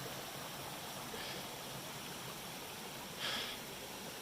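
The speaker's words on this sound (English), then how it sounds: "Coming up on Rattle River. Nice swimming hole right there." Rattle River rushes past a swimming hole along the Appalachian Trail, a steady broadband wash of flowing water with no voices, holding even throughout and swelling slightly near the end.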